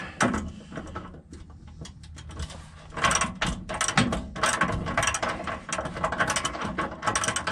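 Rapid clicking bursts of a ratchet wrench working shock bolts on a Dodge Ram 2500/3500 during a Rough Country 3-inch suspension lift, several close, loud spurts separated by short pauses.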